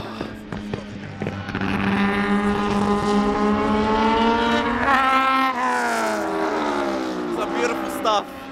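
Loud drift cars roar and rev through shifting pitches at a drift event, with squealing tires and popping exhausts, close by, while people talk over the noise.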